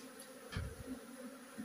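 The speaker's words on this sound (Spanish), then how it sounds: "Llegó un tremendo enjambre" A large swarm of bees arrives at a house, a steady buzzing drone heard close and fairly faint, with a few brief louder hums.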